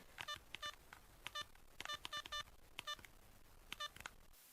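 A telephone number being dialed, a quick series of faint keypad beeps in short irregular clusters over a quiet background, with no talk.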